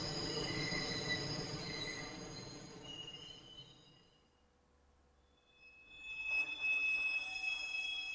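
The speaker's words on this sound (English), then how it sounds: "the train's coming, they're trying to get off the tracks" A train rolls along the tracks in the PS2 game Gantz, its wheels squealing loudly with high metallic tones and rumble, fading briefly in the middle before swelling back up as it draws near.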